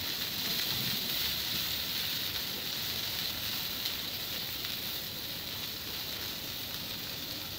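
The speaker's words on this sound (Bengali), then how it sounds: "তাই আমি 2-1 মিনিট একটু ভেজে নেব শুটকিটা।" Dried loitta fish (Bombay duck) frying with garlic in a hot pan gives a steady, even hiss of sizzling oil, close and unbroken throughout with no talking.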